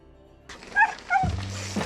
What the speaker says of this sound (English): Happy dog.